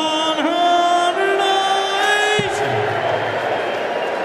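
A darts crowd at a league night roars and whoops after a 180 maximum, a loud, ragged swell of sustained cheering voices that fades into general murmur.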